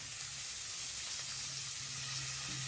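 Groundnuts frying in a pan for gooseberry rice, giving a faint, steady sizzling hiss that continues evenly throughout with no talking.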